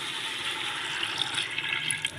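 Water poured into a cooking pot of soaked lentils for halim makes a steady, close rushing and splashing stream throughout, with no talk.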